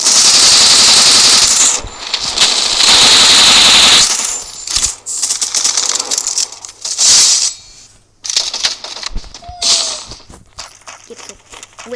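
Rapid machine gun fire in an online 4v4 video game, loud bursts in the first four seconds followed by shorter volleys and single shots, with players talking over the shooting.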